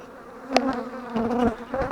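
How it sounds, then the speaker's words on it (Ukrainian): Agitated honey bees swarm around an opened, neglected hive, their loud, close buzzing rising and falling in overlapping drones, punctuated by a sharp knock of hive parts. "ну дуже злі бджоли, звісно"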